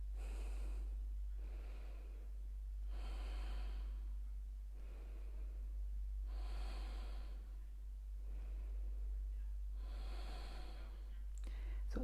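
Rhythmic yoga breathing for kapha balancing: a series of forceful, airy breaths in a steady slow pulse, about five evenly spaced bursts, close-miked over a constant low hum.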